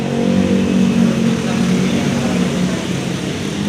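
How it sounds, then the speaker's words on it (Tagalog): A warmed-up Toyota Altis engine runs at a steady idle close by, a continuous low hum with no rise or fall across the few seconds. "So napainit na natin yung makina."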